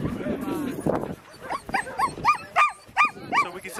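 Sled dogs at a dog sledding camp in Skagway, Alaska, let out a quick series of high, close yips and barks in short repeated bursts, following a brief stretch of voices at the start.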